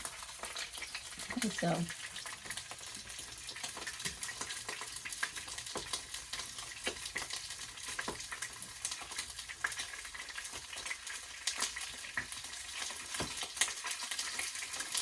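Salmon sears in oil in a fairly large pan, giving a steady, close sizzle and frying crackle throughout, with a few brief words spoken over it at the start.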